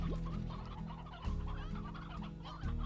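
A lone rooster in the video game Slime Rancher gives repeated soft clucks, heard alone over a steady ambient game backdrop, with a louder squawk partway through.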